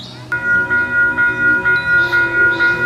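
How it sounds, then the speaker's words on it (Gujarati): A train approaches a level crossing beside a park with a lake, sounding a steady pulsing bell or horn-like tone that repeats in regular beats over rumbling rail noise, close and fairly loud. "ટ્રેન આવતી લાગે છે."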